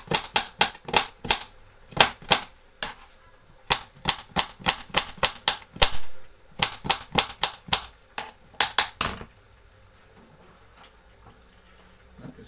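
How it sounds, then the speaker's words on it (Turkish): An onion is chopped with a knife while preparing a breakfast dish: crisp, close chops come in quick rhythmic bursts of about a dozen strokes each, then fall silent. "Şimdi soğanımızı da doğrayalım."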